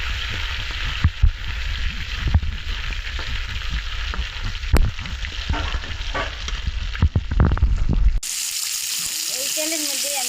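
Dried shutki fish fries in hot oil, a steady loud sizzle and crackle with occasional stirring clatter, then the sizzle cuts out near the end as quieter kitchen sounds follow.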